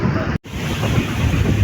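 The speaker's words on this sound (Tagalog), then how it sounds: "Sobrang lakas na po ng hangin mga idol, tapos alon na alon." Loud, steady wind buffeting the microphone over the rush of sea waves, broken by a brief dropout.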